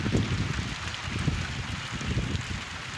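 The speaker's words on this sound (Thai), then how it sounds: "ฝนตกแล้วพี่น้องเอ้ย" Rain falls outdoors beside flooded fields, a steady dense patter mixed with gusty wind buffeting the microphone, with no voices.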